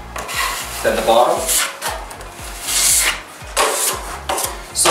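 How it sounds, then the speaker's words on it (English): A drywall trowel spreads joint compound across a wall for a second flat coat, giving repeated scraping, rubbing strokes in bursts, loud and close, with a brief spoken remark between passes. "The way I apply the mud is I put the trowel on an angle and just run it through it."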